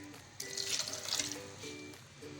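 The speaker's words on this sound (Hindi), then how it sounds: "अब हम इसमें डाल देंगे पानी।" Water pours steadily into a cooking pot holding beef, whole black pepper, turmeric, salt and potatoes for shami kabab, a soft continuous splashing trickle, close and unaccompanied by talk.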